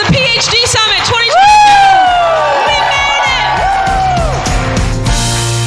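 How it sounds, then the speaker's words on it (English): Audience at a PhD Summit conference panel cheering, whooping and yelling loudly with excited shouts rising and falling, close and sustained, with a host's voice among the crowd. "let's give it one big cheer for the PhD Summit 2022"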